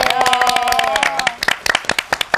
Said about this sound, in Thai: ปรบมือให้เขาหน่อย